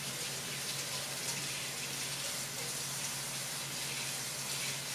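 Hot water runs steadily from a kitchen tap, giving a continuous close hiss and gush for the full stretch with no breaks, and no one speaks over it.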